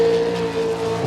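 An S13 drift car on Ditto tires, called Old Red, runs a Formula Drift qualifying lap in Texas, giving a continuous loud engine drone with a steady high whine and tire noise, heard from a distance without talk.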